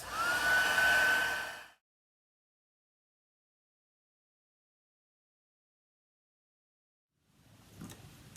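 A heat tool blows loudly for under two seconds, drying ink on vellum paper for a card, then cuts off into silence before faint handling noises return near the end.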